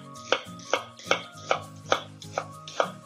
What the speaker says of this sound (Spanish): Empezaremos primeramente cortando las cebollas.